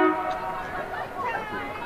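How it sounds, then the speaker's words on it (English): A passing train's horn honks in the distance beneath a voice commentating steadily in the foreground at an under-16 girls' Australian rules football match. "that's a train going past in the background,"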